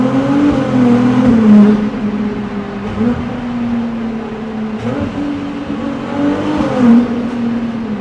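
Ferrari accelerating through Paris streets at night, a loud, close engine drone that rises and dips with gear changes over several seconds, heard from inside the car with no talk.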